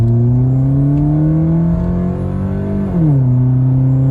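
A car accelerating at wide open throttle, its engine note climbing steadily and loudly, then dipping sharply at a gear shift before pulling again, heard up close.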